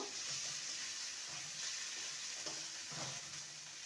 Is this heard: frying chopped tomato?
yes